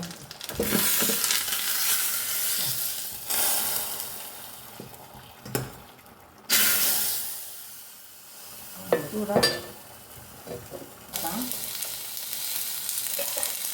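Curry leaves crackle and sizzle in hot oil, a loud steady frying hiss with bursts as leaves hit the pan and a few utensil knocks, no voices.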